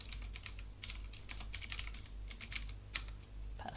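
Rapid, quiet keystrokes on a computer keyboard as an email address is entered, with irregular bursts of clicks, close and faint over a low steady hum.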